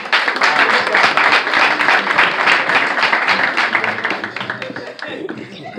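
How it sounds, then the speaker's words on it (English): Audience at a clergy council dinner clapping, a dense close round of hand claps that stays loud and steady before tapering off at the end. "a round of applause for our new chief as she comes"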